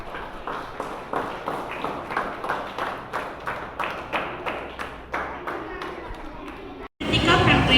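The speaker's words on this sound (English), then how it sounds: "Give a clap" Students clap in unison at a school celebration, the claps slow and regular, fairly close and distinct, before the sound cuts off briefly and a louder burst of noise takes over.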